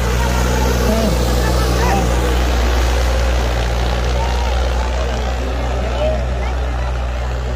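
A tractor engine roars at a disc competition in Faisalabad, a loud steady drone with strong low rumble close by, while people talk and shout over it throughout.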